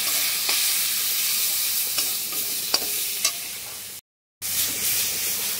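Prawn curry stirred in a pan, a steady sizzle with a few sharp scrapes of the spoon, broken by a short silent gap near the end before the frying resumes.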